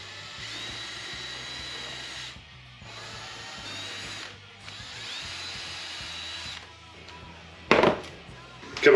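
Power drill boring holes in picture frame pieces, with two long whirring runs of several seconds each, then sharp clatters and knocks of the workpiece near the end; no talk over it.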